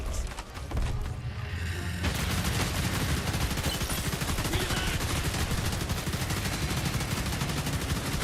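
Sustained rapid gunfire from the video game Starship Troopers: Ultimate Bug War, a dense continuous rattle of automatic shots running loud and unbroken for most of the stretch, with a brief scattered burst at the start.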